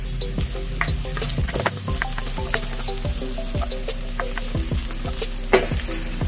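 Onion and garlic fry in a pan, a loud steady sizzle with scraping and stirring clatter throughout, close up and with no one talking.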